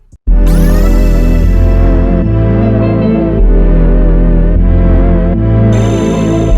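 A loud beat plays with deep bass, sustained chords and a melody on top, shifting every bar or so.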